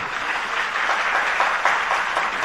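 Steady applause from an audience at a Jain monk's religious discourse class in Damoh, a dense, even clatter of many hands sustained throughout at moderate loudness.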